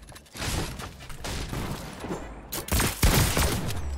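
Dense gunfire in Fortnite, a continuous volley of shots close and loud across the clip, with a burst of sharper blasts near the end.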